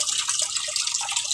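Water runs steadily from a faucet, a brief continuous splashing hiss, no talk.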